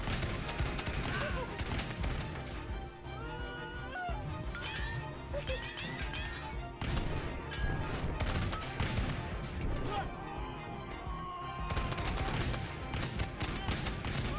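Musketeers fire their guns in the Totally Accurate Battle Simulator game, a dense run of sharp shots and crackling volleys going on for the whole stretch over a busy battle background, with voices talking over it.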